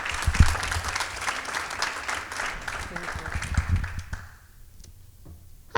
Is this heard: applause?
yes